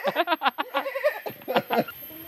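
A young man imitates a goat, voicing a string of quavering, nasal bleats in quick pulses with short pauses between them, close up and fairly loud. He is playing at being a goat while friends bathe and joke around him.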